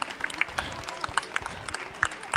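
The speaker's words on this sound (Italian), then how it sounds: "allora un applauso ai nostri ragazzi" Scattered, light clapping from a small crowd at a 2023 inclusive social tourism event, given to young performers after a piece on a player piano, with irregular claps over a busy room background.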